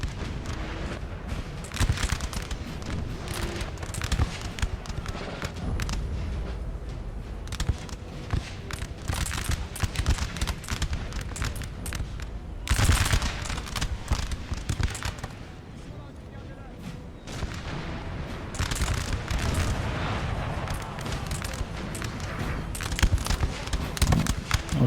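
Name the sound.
artillery fire in Napoleon Total War video game battle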